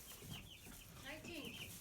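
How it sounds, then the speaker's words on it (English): Faint chirping and clucking of young chickens of mixed ages inside a coop, soft and a little distant over a steady noisy background. "Give you a shot of the chickens that are in here."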